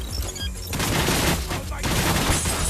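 Enemy gunfire in the VR shooter Espire 1, loud sustained bursts of rapid automatic shots filling most of the clip with no spoken words.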